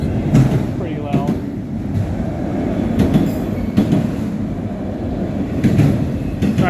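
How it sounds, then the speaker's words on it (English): A stopped Canadian National freight train at a railroad crossing gives off loud, sustained metallic screeching, with rumbling rail noise and repeated squeals rising and fading over it. "Here's a big noise, screech noise, pretty loud."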